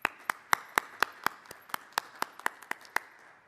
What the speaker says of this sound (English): So let's give these platinum level sponsors a round of applause.